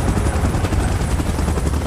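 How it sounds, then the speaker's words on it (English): Steady, loud helicopter rotor and engine drone from the video game Titans Last Stand fills the whole stretch without pause, with no voices. "Chopper in position."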